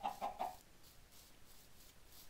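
A Minecraft chicken clucks three quick times, close and clear, followed by faint quiet background rustle.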